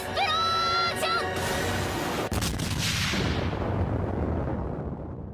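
Teostra's fiery explosions in a Monster Hunter battle: a loud sustained blast of roaring noise opening with sharp bangs, rumbling on and fading away, while a brief tonal game cue sounds at the start.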